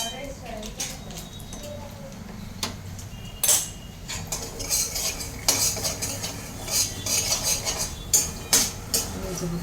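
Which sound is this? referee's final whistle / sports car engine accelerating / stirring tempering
stirring tempering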